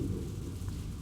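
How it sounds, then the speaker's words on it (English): Distant thunder rumbles under steady rain in a visual novel game scene, a low continuous roll with rain hiss throughout, fairly quiet and with no voices. "Distant thunder. The sound of rain."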